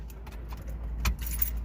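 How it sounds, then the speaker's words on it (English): A bunch of car keys jangles close by in a brief metallic rattle, with one sharper clink near the end over a steady low rumble. "And I have so many plug keys right here."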